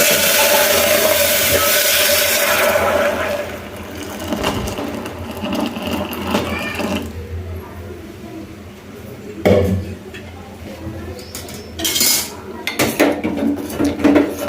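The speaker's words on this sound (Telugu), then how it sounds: "పాయసం చేసుకోవడానికి వేరొక గిన్నెలను గ్యాస్పై పెట్టేశానండి" Metal pots clank and scrape on a gas stove with sharp bangs and rattles between stretches of steady hissing noise, fairly close, with no voices.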